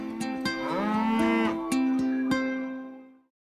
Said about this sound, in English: we believe great milk comes from cows that graze free